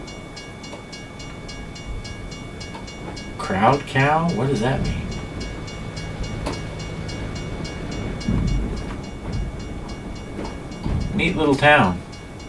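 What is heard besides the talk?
train passing through a town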